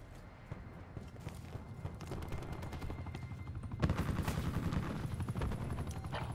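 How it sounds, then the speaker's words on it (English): Busy, continuous gunfire in a Black Ops 4 multiplayer match, dense overlapping shots and impacts throughout, swelling louder near the midpoint as the player is hit, with no one speaking. "I just got shot in the back"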